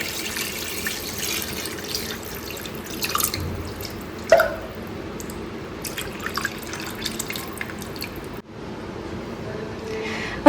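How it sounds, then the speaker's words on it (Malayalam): Coconut milk for a sardine fish curry pours into a clay pot with a trickling, dripping liquid sound, close by, steady for several seconds before a brief dip near the end. "നമുക്ക് ഇതിലേക്ക് തേങ്ങാപ്പാല് ഒഴിച്ചു കൊടുക്കാം."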